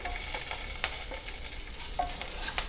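Onion and green chilli pieces fry for biryani, giving a soft continuous sizzle with a few stirring clicks and scrapes, close and fairly quiet, with no talking.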